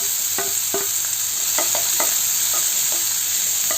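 Sliced onion with green chili, ginger and curry leaves is stir-fried in a pan, giving a continuous hiss of frying oil punctuated by several short, sharp spatula scrapes and taps at an irregular pace.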